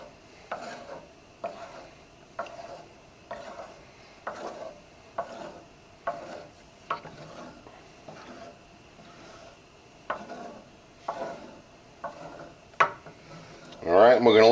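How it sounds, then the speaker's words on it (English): A small wooden spoon scrapes and rubs around a greasy, burnt pan holding liquid, with soft rhythmic strokes about every half second, fairly quiet and close, ending in a brief louder clatter. "let me get something to stir it up a little bit. A little wooden spoon"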